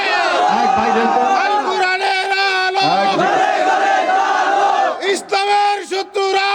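A large crowd chants the takbir, Allahu Akbar, in loud sustained unison, with a leader's call and the massed response repeating in waves.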